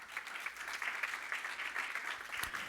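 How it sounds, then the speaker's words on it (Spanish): A church congregation claps their hands together in a steady, sustained burst of applause that continues throughout, fairly close and dense, with no words spoken. "Dale palmas al Señor."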